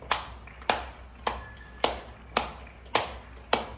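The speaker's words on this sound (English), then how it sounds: "I hear so many people, everybody in their balconies clapping." Applause from many people on apartment balconies during India's Janata Curfew, heard as seven evenly spaced sharp bursts about half a second apart, each fading quickly, with steady background murmur and no speech.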